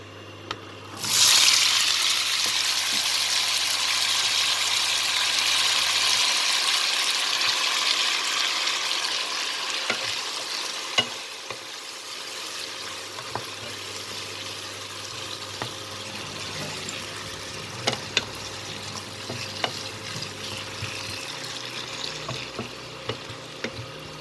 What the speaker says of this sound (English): And I'll fry them until they are cooked and becomes little golden.